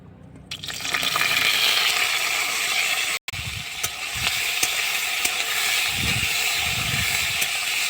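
Cumin seeds sizzle in hot oil for a vegetable fry, a steady bright crackling hiss that starts abruptly, cuts out for an instant, then resumes with a few soft stirring bumps underneath.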